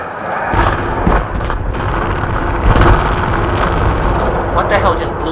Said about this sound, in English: What the hell just blew up on the hill?